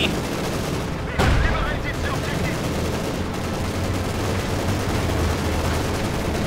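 Mortar blasts and gunfire in a Company of Heroes 2 battle crackle continuously amid dense rumbling, with a sharper burst early on, all beneath an ongoing commentary voice.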